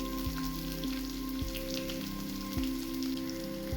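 Small onions, fenugreek and curry leaves sautéing in hot oil, giving a steady crackling sizzle throughout with a low hum underneath.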